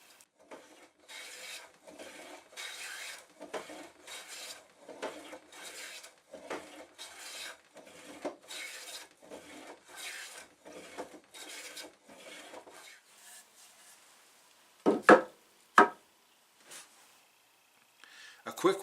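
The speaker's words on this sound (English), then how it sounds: "There is something so satisfying and relaxing from the simple act of planing wood." Wooden boards being hand planed, a long run of steady rasping strokes repeated rhythmically at close range, followed near the end by a few sharper, louder scrapes.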